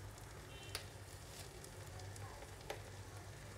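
Rice and lentils frying with spices in a pan for spiced khichuri, a soft steady sizzle throughout with a couple of brief sharp crackles and faint stirring scrapes.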